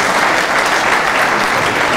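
An audience applauds loudly and steadily at a lecture hall event, dense clapping filling the whole moment without pause.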